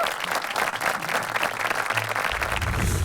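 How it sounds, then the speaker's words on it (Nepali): Audience at a comedy stage show applauding, dense sustained clapping from a crowd filling the whole stretch with a faint voice underneath. "जोरदार ताली"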